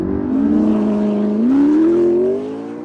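A McLaren in launch control mode holds its engine at steady revs near 3,000 RPM, then pulls away as the pitch climbs smoothly under hard acceleration, loud and close with no talking.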